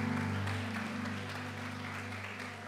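An audience claps together at a retreat closing session, a brief burst of applause that starts loud and gradually thins out, over a steady low hum in the room.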